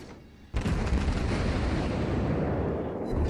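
Torpedo striking a Kagero destroyer in the World of Warships video game, a sudden loud explosion followed by a sustained rumbling roar of blast and debris lasting a few seconds.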